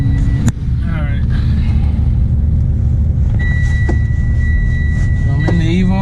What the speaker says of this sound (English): So I'm in the Evo now. We're taking off.